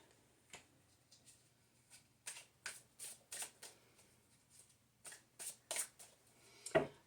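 Tarot cards shuffled and drawn for a reading: a series of soft, close riffling card flicks in uneven bursts, faint and intimate, with a low steady hum underneath and no speech.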